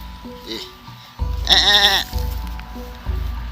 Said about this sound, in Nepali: यहाँ चाहिँ एउटा बाख्रा पनि पालन गरेको रहेछ बुढाले